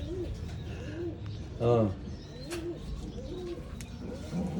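Janssen racing pigeons coo softly inside a cage, with repeated low, rolling calls and one louder coo, while a person talks close by.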